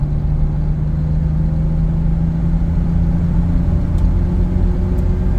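A Jeep Cherokee 4.0L engine runs smoothly at idle, a steady, even low hum with no knocks or misses, heard close and alone.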